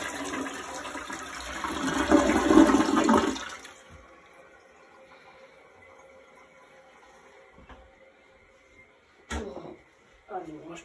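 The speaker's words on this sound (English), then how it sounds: "We're gonna do a power flush" A toilet is flushed with a loud rushing gush of water for about four seconds that then drains away, followed by quiet room noise and a couple of brief knocks near the end.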